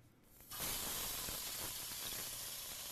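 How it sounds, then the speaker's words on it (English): Meat hits a hot pan and sears with a sudden loud, steady hiss and sizzle that starts after a brief quiet moment and continues strongly without pause. "That's a beautiful sear."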